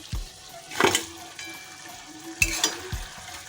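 Fish heads stirred into simmered vegetables in a pan for Bengali chhyachra, giving a few scraping stirs with a soft sizzle of frying underneath, close and alone without talk.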